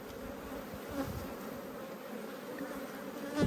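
Honeybees swarm around an opened hive during an inspection, a dense, continuous drone of many wings, close and steady with no talk over it.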